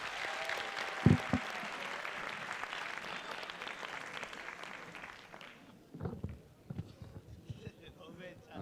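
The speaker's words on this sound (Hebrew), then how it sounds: "ומגיע אליהם מחיאות כפיים גדולות" Applause for yeshiva performers at a coronation ceremony, a broad sustained wash of clapping for about six seconds that then fades into scattered thumps and faint voices.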